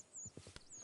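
Horses in the video game Red Dead Redemption 2 clop in a few quick, faint hoof beats over a brief moment, soft and somewhat distant.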